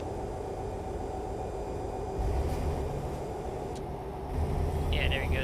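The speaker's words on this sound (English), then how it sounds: "That's the sound of the brake retarders." Brake retarders engaging on a Peterbilt truck slowing down from highway speed: a steady loud engine roar heard from inside the cab, with deeper rumbling surges breaking in partway through.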